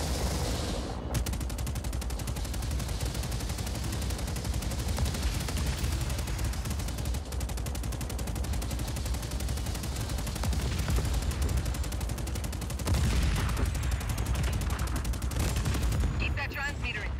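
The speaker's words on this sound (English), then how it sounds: "Where's that guy shooting from?" Sustained gunfire from an enemy shooter in Just Cause 4, dense rapid bursts filling the whole stretch with loud continuous crackle and booms, with brief pauses near the start and end.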